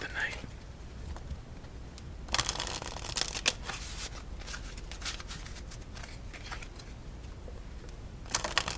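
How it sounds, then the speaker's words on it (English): A deck of playing cards is reshuffled up close: a soft riffle at the start, then a longer stretch of brisk, rattling shuffling and a final quick riffle near the end, with a voice talking over parts of it. "let's reshuffle up our deck and move on to our second game of the night"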